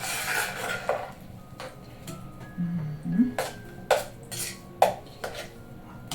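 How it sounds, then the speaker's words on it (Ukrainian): Soft scraping and light clinks against a bowl as damp grated potatoes are tipped and shaken in, with a few sharper taps in between. "з цукром висипаємо сюди картоплі"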